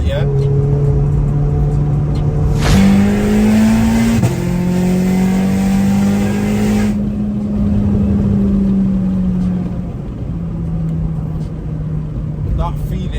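Tuned Audi S3 8P making 600bhp in sport mode, heard from inside the cabin as the engine revs and pulls through rising gears with a whine on top, a steady loud drone that eases off toward the end.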